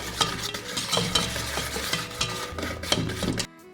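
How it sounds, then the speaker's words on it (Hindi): An electric mixer beating sugar and butter together in a bowl into a fluffy batter, a continuous whirring churn with rhythmic scraping and clatter against the bowl, close and alone. "देखिए मिक्सर हमारा अच्छे से मिक्स हो रहा है।"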